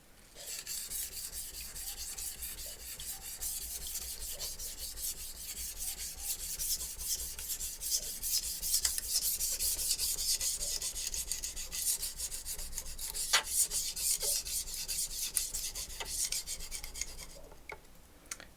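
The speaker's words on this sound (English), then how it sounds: "Now you hear the grinding." A utility knife blade is sharpened on a Shapton Glass whetstone, giving close, continuous gritty rasping strokes that scrape back and forth steadily for the whole stretch, with no talking.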